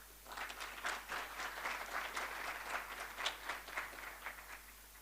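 Audience applause at the Africa Evidence Summit 2022, a steady wash of many hands clapping in a conference hall, moderately loud and continuous for several seconds with no talking over it.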